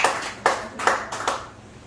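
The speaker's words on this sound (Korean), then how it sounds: "똑똑한 애들 박수 부탁합니다" Four or five separate hand claps from an audience at a campus election event, sharp and close, coming in an uneven rhythm about half a second apart with no talking.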